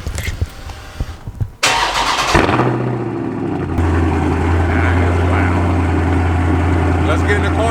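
A loud car engine cold-starts with a sharp catch after brief background chatter, then settles into a heavy, rumbling idle that holds steady and close.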